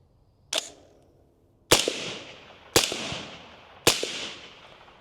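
Four sharp suppressed gunshots from a rifle fitted with an Omega 300 suppressor, firing supersonic ammunition on gas setting 2; each crack is loud and close with a short decaying tail, the first isolated and the last three evenly spaced.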